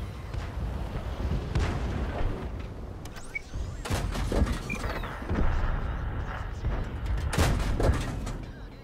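Heavy tank cannon shots in World of Tanks, a VK 36.01 (H) on the Westfield map, booming low thuds with rumbling tails spread over continuous engine and battle noise.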